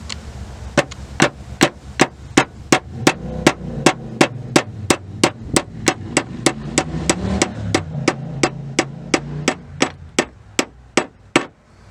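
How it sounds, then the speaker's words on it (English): A copper-headed hammer strikes metal on a Suzuki Vitara again and again, about thirty sharp ringing blows in a steady rapid rhythm, with a low rumble underneath. "Use a copper-headed hammer."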